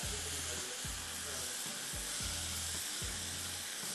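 Ingredients sizzle and fry steadily in a pan for a shashlik platter, a dense hiss with low rhythmic thumps about once a second, as if from stirring or the pan shifting.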